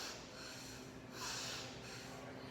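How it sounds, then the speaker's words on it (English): Breath is drawn in and pushed out through the nose in soft, close sniffing pulses, two or three airy swells rising and falling during a beginner yoga session. "that's kind of, like sniffing up and down"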